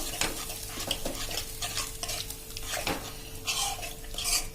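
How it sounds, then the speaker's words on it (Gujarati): A spoon stirs curd and spices briskly in a pan on full flame while preparing a bhindi dish, constant scraping and clinking over a continuous sizzle, close and fairly loud, no voices. "ફૂલ ફ્લેમ ઉપર અને સ્પીડમાં તમારે ચમચો કન્ટિન્યુ ચલાવતો રહેવાનો, જ્યાં સુધી મિક્સ ન થાય મસાલા સાથે ત્યાં સુધી."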